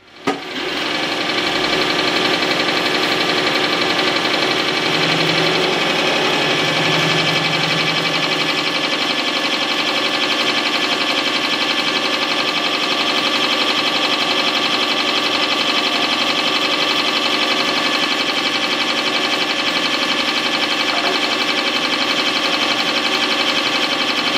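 A Mikron F75 milling machine takes a 40-thousandths-of-an-inch-deep cut, a loud, steady mechanical whine and hum with dense high tones that runs unbroken for the whole stretch, with no talking.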